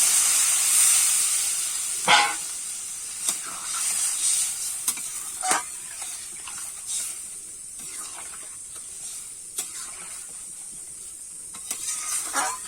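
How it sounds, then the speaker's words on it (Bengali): Water poured into a hot pan of Bengali rui fish curry with bottle gourd sets off a hissing sizzle, with sharp stirring scrapes breaking through at intervals over a steady steamy hiss. "এবারে পরিমাণ মতো আমি জল দিয়ে দিচ্ছি"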